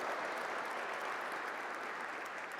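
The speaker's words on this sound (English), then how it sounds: "So you can applaud for yourselves" A large summit audience applauds steadily, a dense, even wash of clapping that holds at constant loudness throughout with no voices rising above it.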